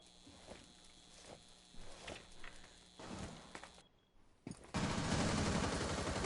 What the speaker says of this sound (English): Bullets flying out in the library.